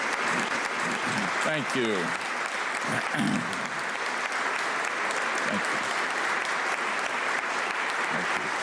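A policy event audience applauds in a dense, sustained, even wash of clapping that lasts throughout, while a voice says thanks over it.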